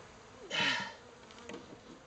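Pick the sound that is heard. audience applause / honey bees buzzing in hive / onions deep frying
honey bees buzzing in hive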